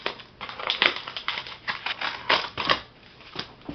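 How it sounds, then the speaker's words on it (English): Scissors snip through gift wrapping paper in a run of close, crisp cuts with short irregular pauses, heard alone without talk. "It's time to use the scissors again."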